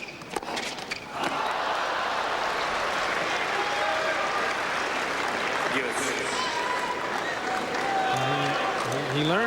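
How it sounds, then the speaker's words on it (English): A tennis crowd at the 2002 US Open cheering and applauding for Andre Agassi, a loud sustained roar of clapping that builds quickly and holds, with a commentator's voice faintly over it. "Crowd urging Andre on to level this match at 1 set all."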